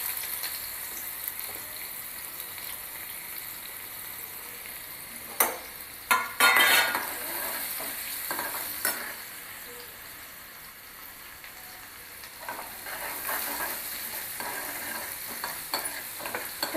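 Chopped onion frying with cumin seeds in hot oil gives a steady, moderate sizzle, with scattered stirring clicks and scrapes throughout.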